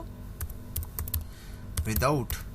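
Rapid clicking keystrokes on a computer keyboard while working in MS Excel, close and busy, with a person speaking over the typing.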